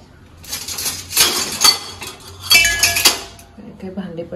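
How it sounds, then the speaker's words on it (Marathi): Metal pots and utensils fall and clatter in a home kitchen, several loud crashing bursts ringing out close by, with a voice briefly heard afterward. "काय भांडे पडले"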